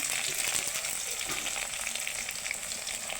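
A spice paste sizzles and fries steadily in hot oil in a wok, a dense, continuous crackle close by with no talking.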